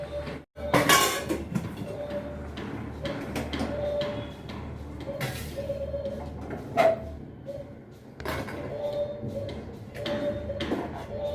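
Maggi noodles tempered with masala being served into dishes for three people, with repeated light clinks and taps of utensils against plates at close range, scattered across the scene over a steady room-tone background.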